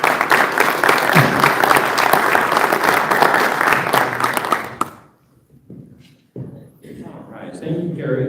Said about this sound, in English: So if you'll join me in a round of applause for David Iverson.